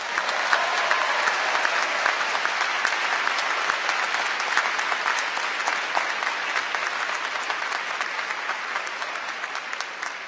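Audience applause fills the hall at the 2019 USU commencement ceremony, a dense, even patter of many hands clapping steadily for about ten seconds, loud and unbroken, with no voices on top.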